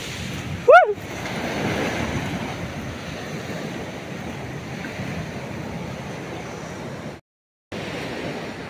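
Strong ocean surf on a beach after a typhoon, a steady, loud roar of breaking waves mixed with wind buffeting the microphone, with a brief squeal near the start and a short dropout near the end.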